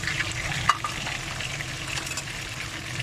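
Fish frying in gravy in a pan, a steady close sizzle and bubbling hiss with a brief clink of a utensil early on, otherwise even and continuous without talk.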